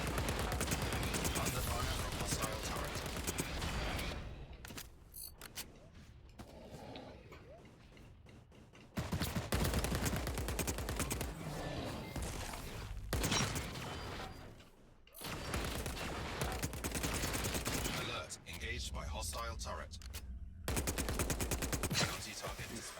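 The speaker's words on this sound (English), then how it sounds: "Under fire from hostile turret." Hostile turret gunfire in a video game, long stretches of rapid, loud automatic shots broken by brief lulls and quieter gaps, mixed with other game effects and clicking mechanical sounds.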